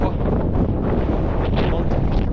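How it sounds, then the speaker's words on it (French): Cold wind buffets the microphone on the summit of Puy de la Vache in the Massif Central, a loud continuous roaring rush with no clear breaks, drowning out other detail. "il y a du vent froid"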